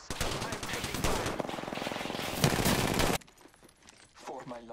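Rapid automatic gunfire in the Apex Legends video game, a dense, continuous volley of shots for about three seconds that cuts off abruptly, followed by quieter game sounds.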